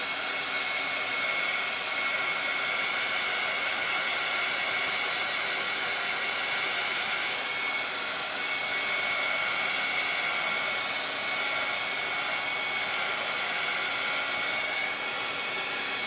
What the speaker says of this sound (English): DeReese heat tool, it says. So hold your ears.